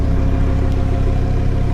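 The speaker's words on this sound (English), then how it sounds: "It sounds very healthy, idles very smooth, runs and drives great." A 2018 Lamborghini Huracan Performante idles smoothly, its engine giving a loud, steady low rumble with an even pulsing beat throughout.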